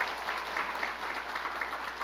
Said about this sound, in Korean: 모두 우리 하나님께 감사의 영광의 박수 한번 드립시다.